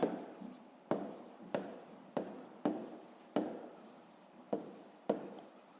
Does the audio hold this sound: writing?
yes